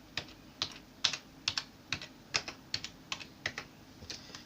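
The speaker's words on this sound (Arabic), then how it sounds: "اي كيبورد بسعر رخيص هتلاقي نفس صوت" Close, crisp clicks from a cheap Army computer keyboard come in an uneven typing rhythm, about a dozen distinct key presses.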